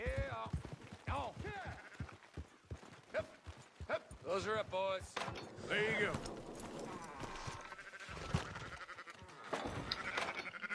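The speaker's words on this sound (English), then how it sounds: "Fine sheep." Sheep bleat in the Red Dead Redemption 2 video game, mixed with horse hoof clip-clops, under steady talk from people nearby.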